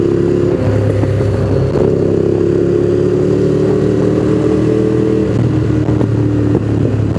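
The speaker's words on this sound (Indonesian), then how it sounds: "Naik motor Matic" A Yamaha X-Max 250 automatic scooter rides by with a loud, steady mid-pitched engine drone and slight clatter, close and continuous for several seconds, no voices over it.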